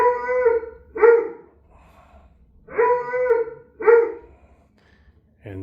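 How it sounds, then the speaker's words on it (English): Recorded dog barks played back through a simulated surround home theater setup: two pairs of loud, strident barks with a howling tone, separated by short pauses and a faint low hum. "So what he's able to do is simulate every channel and play the dog barking."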